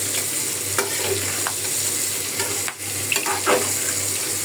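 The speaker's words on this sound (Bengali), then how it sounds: "এদিকে মাছও ভাজা হয়ে যেতেছে" Fish frying in oil in a pan on a home kitchen stove while a vegetable curry cooks alongside. It gives a steady, close sizzle throughout with a few faint clinks of stirring, and no voices.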